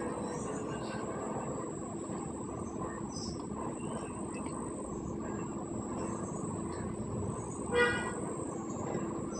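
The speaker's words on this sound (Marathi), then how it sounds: "गाडीचा आवाज येतोय." Vehicle noise drifting in from the road outside, a continuous low rumble heard from indoors with one brief horn toot near the end.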